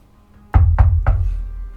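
Three sharp knocks on a door land in quick, even succession, loud and close, with a short resonant thud after each and quiet otherwise.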